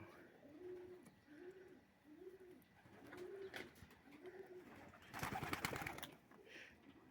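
Pigeons coo in a steady series of soft, rounded calls, close and quiet, with a brief burst of rustling and scraping near the end.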